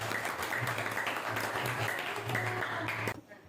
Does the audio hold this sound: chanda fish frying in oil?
no